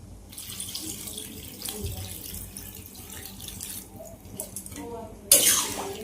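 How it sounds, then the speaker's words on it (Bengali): Water from a tap pours into a cooking pot in short gushes and splashes at close range, then rushes louder near the end, with faint background voices. "জল দেবো, জল দেবো একটু।"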